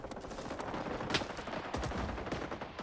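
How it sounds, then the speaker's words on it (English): Dense, rapid gunfire in the Vietnam War shooter Rising Storm 2 in Hue City, with overlapping automatic bursts and sharp single shots crackling continuously at moderate loudness. "Oh shit, somebody shooting at me?"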